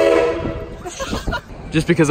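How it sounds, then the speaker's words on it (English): Horn of the railway train at Knott's amusement park, sounding in a few sustained blasts over crowd noise, with people talking nearby. "Also, dang train."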